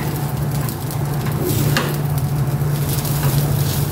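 Steady, close sizzling and crackling of rice frying in a hot pan, with a constant low hum underneath and occasional scraping stirs.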